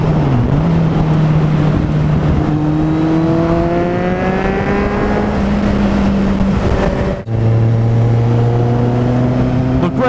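Motorcycles, including a Kawasaki Z800, ride fast with a loud engine whine climbing steadily, a brief drop at a gear change, then climbing again, all under heavy wind rush.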